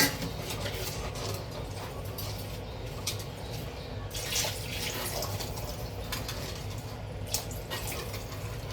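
Water poured into a pot of seer fish (neymeen) curry, a steady splashing gush that runs unbroken and fairly close, with no talk over it.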